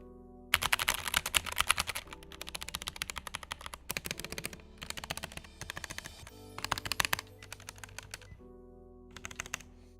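Fast, loud typing on a mechanical keyboard fitted with newly swapped keycaps, close to the microphone, with rapid clacky keystrokes in bursts and short pauses and no talk.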